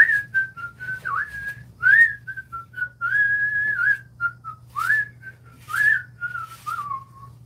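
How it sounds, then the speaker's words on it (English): A person whistles a wavering melody of short and held notes, close and clear over a low steady hum, with no talking. "When you whistle while you work"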